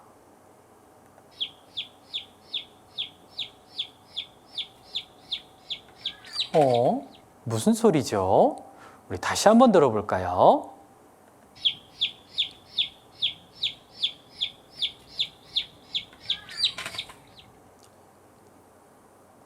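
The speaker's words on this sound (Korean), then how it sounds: "병아리 소리였어요. 삐약삐약 병아리 소리." Baby chick peeping in a rapid, evenly spaced series of high chirps, played twice for a children's guessing game, with a teacher's voice speaking between the two runs.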